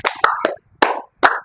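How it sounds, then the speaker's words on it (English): A short burst of hand claps from a few people, five or so sharp claps in an uneven rhythm, close by. "Clap for her."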